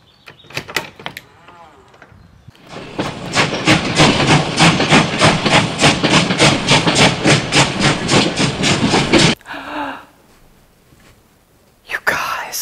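The wine train passing close by, a loud rhythmic series of rail clacks and rushing noise lasting several seconds, preceded and followed by quieter moments with brief knocks.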